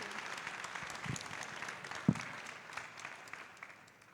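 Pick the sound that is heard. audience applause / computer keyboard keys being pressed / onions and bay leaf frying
audience applause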